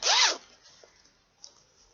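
A quick, loud zipper pull on a medium-sized Halcyon bag rasps close by, followed by a couple of faint clicks and rustles as the bag settles.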